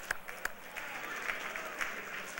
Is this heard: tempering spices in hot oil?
no